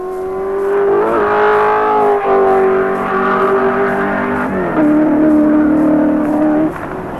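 A 1983 Holden Commodore touring car, number 25, lapping Mount Panorama at Bathurst, its engine holding a loud, steady drone that dips and climbs through gear changes, close and unbroken, with no voices.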